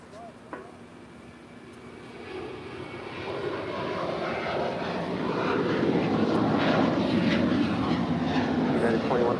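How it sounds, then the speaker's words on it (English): United Boeing 737-900ER airliner departing LAX, its jet engine roar swelling steadily from a moderate rumble to a loud sustained whoosh as it spools up and climbs away. "This is United 2146 departing to Denver on a 737-900ER."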